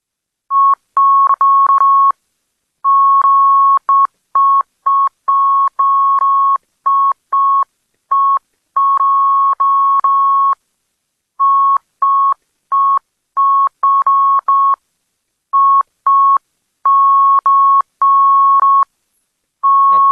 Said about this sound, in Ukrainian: Отже, вам пропонується азбука Морзе.